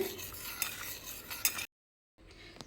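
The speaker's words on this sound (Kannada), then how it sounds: "ಈ ರೀತಿ ಕರಗಿಸೋಣ ಇದಕ್ಕೆ ಸ್ವಲ್ಪ ಹಾಲನ್ನು ಹಾಕಿಬಿಟ್ಟು ಸೊ ಶುಗರ್ ಸಿರಪ್ಪಿಗೆ ಹಾಲನ್ನು ಹಾಕಿ ರೆಡಿ ಮಾಡಿದ್ರೆ ಇನ್ನೂ ಟೇಸ್ಟಿಯಾಗಿ ಇರುತ್ತೆ" Spoon stirring milk into sugar syrup in a pot to melt it for an eggless bakery-style cake, soft scraping and clinking swirls close up, broken by a short silent gap before the stirring resumes faintly.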